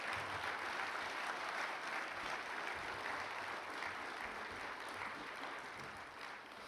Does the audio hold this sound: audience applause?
yes